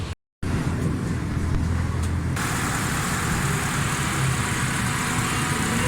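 An older Honda car engine, just started after a tappet adjustment, with some spark plugs not yet fitted. A brief dropout is followed by a loud, steady idle, running close and even throughout.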